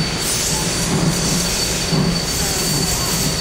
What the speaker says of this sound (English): minute, Mickey, we're gonna watch the train